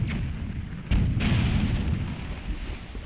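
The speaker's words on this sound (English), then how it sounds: "by the way, there's fireworks outside." Fireworks going off outside as deep, rumbling booms, one sharp blast followed by a continuous low roll of distant explosions heard indoors.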